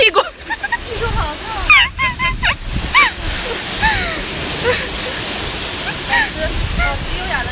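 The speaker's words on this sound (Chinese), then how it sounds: "你听到水声了吗？" Rushing water of an amusement park water ride roars and splashes continuously beneath excited voices, shouts and laughter from riders, with bursts of wind noise buffeting the microphone.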